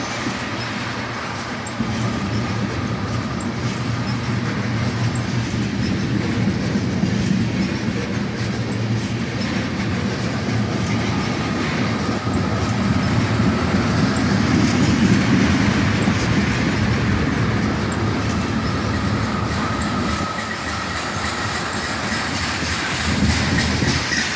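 A Union Pacific, CN or CSX freight train brakes in Carlisle, its wheels grinding and squealing against the rails in a loud, continuous, close roar that swells midway as it sheds speed.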